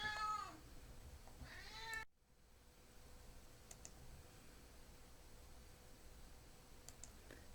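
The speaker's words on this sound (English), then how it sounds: "my cat's making noises here" A pet cat meows twice at close range, two drawn-out cries at the start, followed by quiet room tone with faint clicking like keyboard taps.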